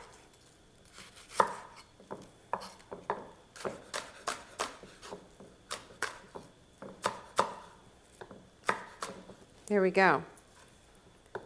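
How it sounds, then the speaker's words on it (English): An onion is chopped with a knife on a board for a Brussels sprouts, butter and bacon dish, producing a series of sharp, close, irregular thuds spread across the clip, interrupted by brief speech. "You just need to get the onion chopped"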